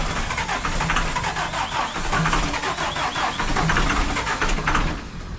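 Diesel engine with glow plugs, in a Toyota Tacoma, cranking steadily for several seconds with a rhythmic chug, close and loud, then catching and running.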